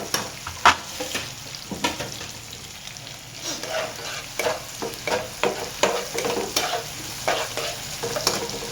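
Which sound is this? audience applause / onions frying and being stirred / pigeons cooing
onions frying and being stirred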